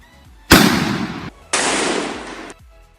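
Two shotgun blasts fired at a pumpkin, each a sharp loud crack with a sustained roaring burst lasting about a second, close by and separated by a brief gap.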